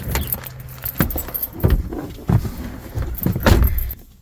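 A bunch of keys jangling and clinking repeatedly while a vehicle is being unlocked, loud and close, with irregular metallic rattles and knocks throughout.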